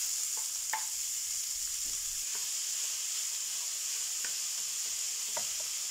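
Ground meat frying steadily in a pan gives off a constant bright sizzle, broken now and then by light crackles and pops, with no voices.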